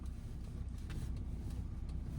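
A car's engine idles and rumbles steadily at low pitch as a learner driver shifts into first gear in a mall parking lot during a driving lesson, close and continuous with no talk.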